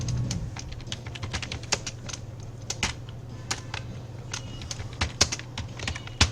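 Steady, rapid key clicks of a password being typed on a computer keyboard, close and fairly quiet over a constant low electrical hum, with occasional louder keystrokes.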